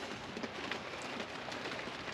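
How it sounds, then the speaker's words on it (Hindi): Rain hisses steadily on the roof, heard from inside a house attic as a heavy downpour begins to ease, a faint, even wash of drops with no voices. "बारिश अभी बहुत ज़्यादा तेज़ थी, अभी हल्की सी कम हुई है"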